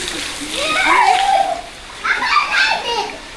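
Water spurting from a children's toy pump at a play area, splashing in two short bursts while kids' voices chatter close by.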